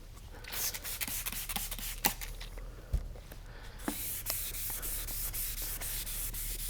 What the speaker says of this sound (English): we're going to transition onto our 1500 grit sandpaper.